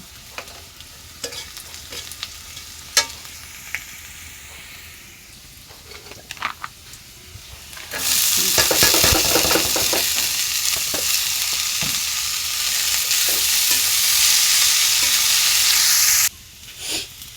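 Cumin seeds frying in hot oil, a few light clinks and taps, then a loud steady sizzle bursting in and hissing for several seconds before cutting off abruptly.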